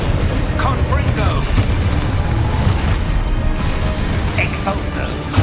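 Fire blast spell exploding in the Hogwarts Legacy video game, booming bursts and rumbling impacts layered over busy combat noise, with a voice shouting spell incantations throughout.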